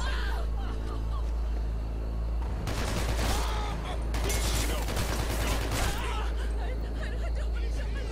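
Gunfire from the video game Hatred comes in dense rapid bursts mixed with game noise and chatter, loud and continuous across the stretch, with heavier volleys in the middle.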